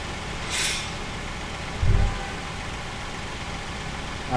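A Hyundai Palisade with an alternator communication fault runs at idle, giving a steady, close engine hum. A brief hiss appears early on, and a short low thump swells just before the halfway point.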